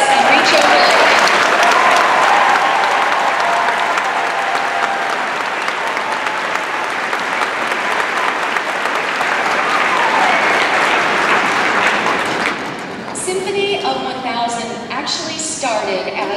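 Loud, sustained applause from a large concert audience at a Sacramento Youth Symphony performance in California, a dense wall of clapping for most of the stretch before it thins near the end.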